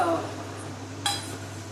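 A big spoon scoops from a pot of marinated chicken, giving one clear metallic clink against the pot after a quiet stretch.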